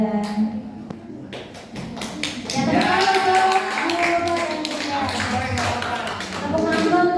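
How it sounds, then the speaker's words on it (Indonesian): Applause for two teachers at a school teacher-training gathering, a run of close, moderately loud hand claps from a small group that starts after a brief spoken word and continues steadily to the end. "tepuk tangan untuk Pak Ivan dan Pak Ali"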